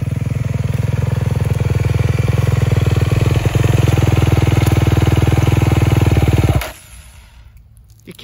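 A 250 dirt bike engine runs steadily with a loud, close, buzzing drone for several seconds before it suddenly cuts out, leaving quieter background noise.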